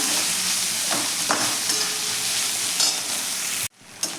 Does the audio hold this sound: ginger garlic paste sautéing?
yes